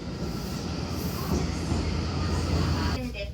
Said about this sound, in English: we took a 90-minute train ride into the mountains